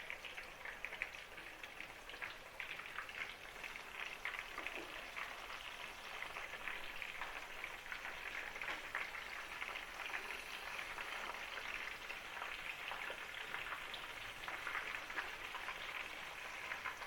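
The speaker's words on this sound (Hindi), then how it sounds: "अभी हम इसको फ्राई करने लगे।" Marinated fish fries in hot oil, a steady, fairly soft crackling sizzle that holds evenly with dense popping and no voices.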